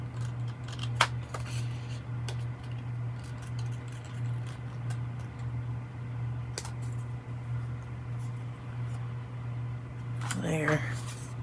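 Scissors cutting out screen material for a craft, a few short snipping clicks spread over a constant low electrical hum, with a person talking quietly nearby.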